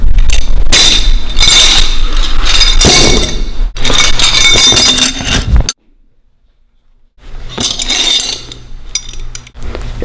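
A sack of metal wrenches clatters and clanks loudly in repeated bursts of bright metallic jangling, then a short silence before another clanking flurry.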